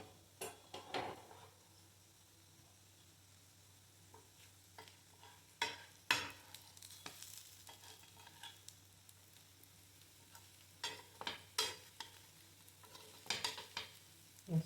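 Ade dose batter cooks on a hot pan with a faint steady sizzle, broken by repeated sharp scrapes and clinks of a spatula and utensils against the pan, close and intermittent.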